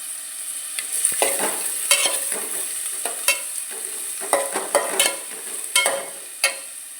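Onions and curry leaves frying in a pan for chicken ghee roast, a bright continuous sizzle punctuated by repeated scraping strokes of a spoon, close and fairly loud.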